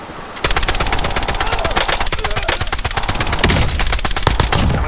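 Sustained automatic gunfire in Call of Duty Warzone, rapid loud shots in a steady rhythm for several seconds with barely any pause, close and dominant with no talk over it.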